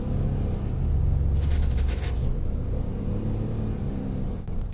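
A car driving, with a steady low engine rumble and road noise heard from inside at close range, continuous and fairly loud, with no speech.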